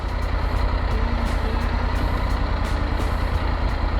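A vehicle drives along a dirt road on an off-road stretch in Morocco. A loud, steady engine drone runs throughout, with a faint, regular ticking pulse and no voices.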